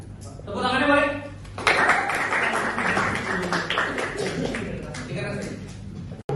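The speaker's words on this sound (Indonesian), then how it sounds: "Tepuk tangannya boleh?" An Indonesian classroom or workshop group claps together in a sustained, dense burst of applause. Voices chatter underneath throughout, fairly close and steady until a sudden stop.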